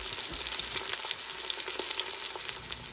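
Beef browning in an Instant Pot, a dense close sizzle with crackling pops and the scrape of stirring, steady and fairly loud throughout.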